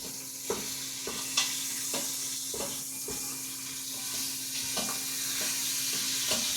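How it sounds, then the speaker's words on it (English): Pork ribs sizzle and spit on the hot bottom of an Instant Pot as they are stirred, giving a constant close fry with sharp scraping clicks about every half second. "don't be afraid to try to move them around or stir them so they all do hit the bottom of the Instant Pot"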